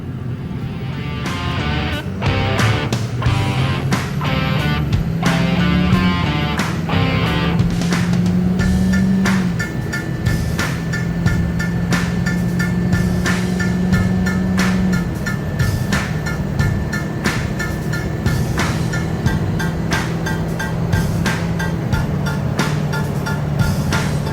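A 6.0L Powerstroke diesel truck accelerates from a stop to 60 mph at half throttle, its engine droning steadily with rising pitch and shifting through gears, heard from inside the cab.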